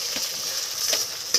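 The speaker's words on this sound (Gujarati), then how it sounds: "હવે આ બધું હલાવે છે" Tomatoes and onions fry in a kadai for pav bhaji, a steady close sizzle with a few soft scraping strokes of stirring spaced through it.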